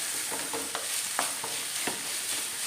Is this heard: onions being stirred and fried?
yes